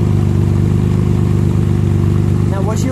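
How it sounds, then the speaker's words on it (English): The single chrome exhaust of a 1957 Aston Martin DB2/4 Mark III runs at a steady, loud, close idle, with a deep pulsing burble throughout. A voice is briefly heard near the end. "Now listen to this exhaust."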